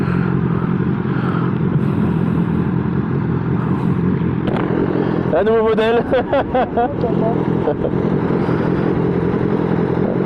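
A BMW S1000R motorcycle fitted with an SC exhaust rumbles steadily nearby, with a short burst of revving partway through, while people talk over it throughout.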